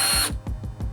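A DeWalt 5-in-1 cordless drill whirs briefly at a high pitch, then stops. Several short, rhythmic mechanical clicks follow close up, with no talk.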